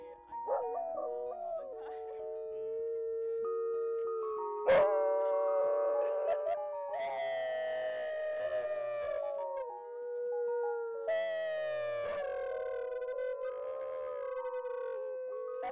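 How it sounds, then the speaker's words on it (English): Several dogs howl together beside a river at North Pacific Cannery, in long rising and falling wails, voices overlapping and picking up one another's howls, fairly close and continuous. "you'd hear them howl and pick up the howl"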